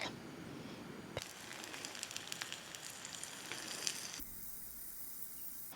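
Pancake batter sizzling in a pan at a campsite, a steady crackling hiss with small pops that runs for about four seconds before it suddenly cuts to a quieter hiss.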